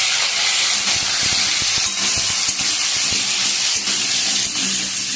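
Potatoes spread into hot oil in a pan sizzle loudly and steadily, a close broadband hiss with scattered crackles and small knocks throughout, no voices.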